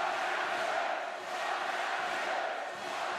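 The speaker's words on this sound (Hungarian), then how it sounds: "meg is hozza a közönség hangját" Handball arena crowd roaring and cheering after a Győr goal, a dense, loud, sustained wall of voices with slight swells and no commentary over it.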